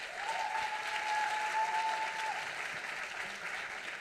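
Audience applause at an awards ceremony, a steady wash of clapping sustained for about four seconds at moderate level, with no speech over it.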